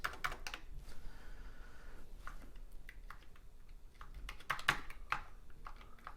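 Keys on a repaired Matsumi TI-99/4A computer keyboard are pressed one after another in irregular bursts, sharp plastic clicks and clacks, close and fairly quiet in a still room.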